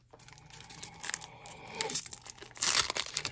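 Crinkly foil wrapper of a trading card pack being torn and crumpled open in short bursts, getting louder toward the end, close up with no talking.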